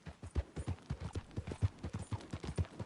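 A borrowed horse trots in Red Dead Redemption 2, its hooves clip-clopping in a quick, even rhythm, close and clear with no other sounds.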